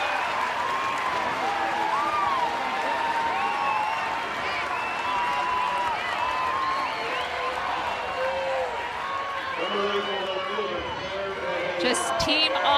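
Spectators applauding and cheering at a college softball game, Omaha versus Missouri, a sustained crowd roar with clapping under a commentator's voice, some scattered shouts and a sharp knock near the end.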